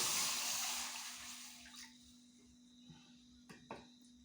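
Water is poured from a vessel into a cooking pot on a home kitchen stove, a brief splashing gush that fades quickly, followed by faint small knocks and clinks.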